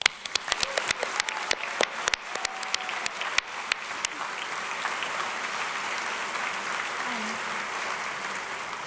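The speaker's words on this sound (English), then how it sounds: "we would like to recognize them with a round of applause for their hard work." Graduation ceremony audience applauding, a dense wash of clapping that starts with a few sharp, distinct claps and settles into steady, even applause held at a moderate distance.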